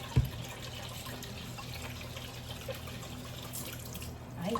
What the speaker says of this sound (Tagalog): Ang init ng tubig, grabe.